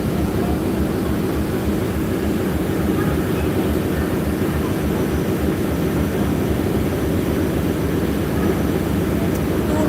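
A ferry boat's engine gives a steady, loud, low rumbling drone throughout on the harbour crossing from Tsim Sha Tsui to Central.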